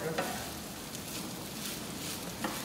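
Kare-kare broth at a steady boil, a constant dense bubbling hiss close by with no let-up and no voices.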